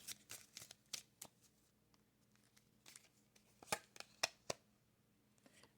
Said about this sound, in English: Let's get this Gypsy Witch card, my grandmother's deck.